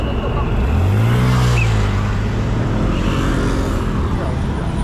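Busy street traffic in Taiwan, with cars and engines rumbling loudly and continuously, one vehicle rising in pitch as it accelerates past close by.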